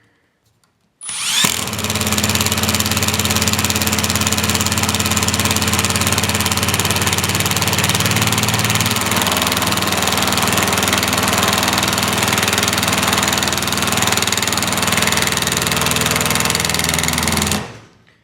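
A cordless impact driver, Milwaukee 2753 or DeWALT DCF887, runs continuously in its self-tapping drive mode as it sinks a self-tapping screw. It makes a loud, steady, buzzing whir for about sixteen seconds before stopping abruptly.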